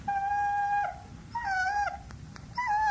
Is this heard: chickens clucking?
no